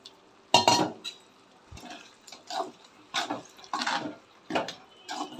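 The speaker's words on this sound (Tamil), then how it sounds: "இப்போ தேவையான அளவு கொஞ்சமாக தண்ணி ஊற்றிக்கோங்க." A little water poured into a pan of chicken curry masala, heard as a series of short splashes and clinks of a vessel or spoon, separated by quiet gaps, close and moderately loud, with no voices.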